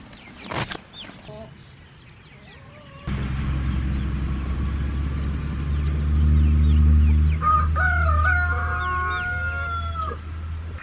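Chickens cluck and call over a loud engine-like rumble, with a rooster's crow rising near the end; the birds sound fairly close.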